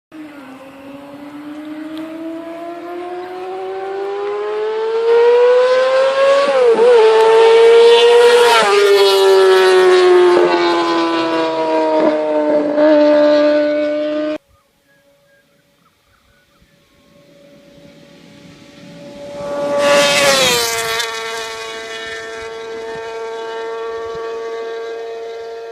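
A high-revving four-cylinder 250cc Japanese motorcycle engine screams up through the revs, rising and falling loudly, then cuts out briefly before a sharp blip and a sustained high-pitched wail.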